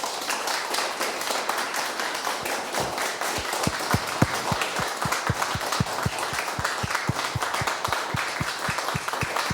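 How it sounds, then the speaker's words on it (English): Steady concert-hall applause from an audience before a cello and piano recital, a dense wash of many hands clapping at close range with sharper individual claps standing out, no talking. "So can we have a big round of applause,"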